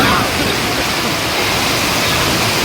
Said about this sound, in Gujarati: બહુ જ વરસાદ પડે છે